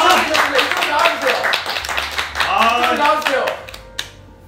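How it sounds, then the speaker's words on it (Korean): Scattered hand claps break out in a crowded bar during a party prize announcement, a brief uneven burst under loud, excited talking. "야, 박수 좀 쳐드려라!"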